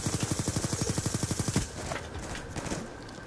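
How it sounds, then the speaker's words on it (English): Rapid automatic gunfire in the video game Black Ops 2, a steady rattling burst of evenly spaced shots lasting about a second and a half, followed by scattered fainter game sounds. "he shot me through the fucking wall"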